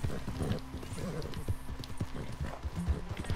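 Horse hooves clip-clop in a steady, close walking rhythm in the video game Red Dead Redemption 2, fairly quiet against a faint background.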